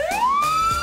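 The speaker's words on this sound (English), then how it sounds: "Fire engine." A fire engine siren wails upward in a single rising sweep, loud and close, heard alone in a short burst.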